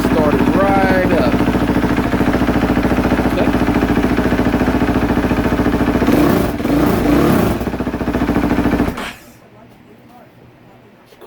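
A KTM 450 SX-F dirt bike engine, newly fitted with a repaired starter clutch, runs loud and steady at idle for about nine seconds before cutting to quiet, with brief voice sounds partway through.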